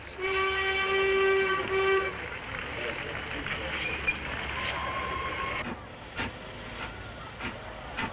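A 1943 wartime austerity class steam locomotive on the Severn Valley Railway gives a long tonal whistle, followed by rumbling running noise and scattered clanks from the train, with someone narrating over it.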